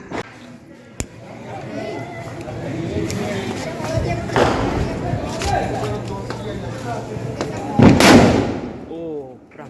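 Sutli bomb firecrackers set off during Diwali, with one sharp crack early, then a loud blast near the end that leaves a fading echo, heard among outdoor background noise and people talking.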